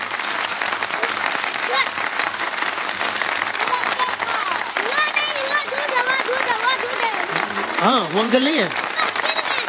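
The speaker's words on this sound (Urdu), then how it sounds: "ذرا تالیاں بجائیں، ذرا تالیاں بجائیں" Applause from a group of people fills the room steadily, with a voice and other chatter heard over it and a few squeaky, bouncing tones near the end.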